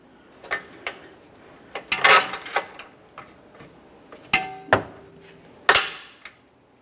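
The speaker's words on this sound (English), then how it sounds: "Let's get that mounting nut on there" A mounting nut being threaded onto a front lower control arm bolt on a 2011-2020 Toyota Sienna, a sparse series of sharp metallic clicks and clinks with short ringing taps against quiet.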